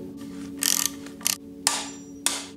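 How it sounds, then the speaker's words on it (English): Ratchet clicks in short bursts while a timing chain guide bolt is tightened on a GM Ecotec 2.4 engine, with metallic clanks and a steady low hum underneath; close and fairly loud. "Now let's install this ZZPerformance timing chain bolt."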